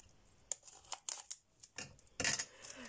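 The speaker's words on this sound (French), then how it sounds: "Donc là, je vais ouvrir avec mes ciseaux." Scissors snip and crunch through packaging to open a Christmas gift, a series of close, sharp cuts and rustles in uneven bursts, with no talking.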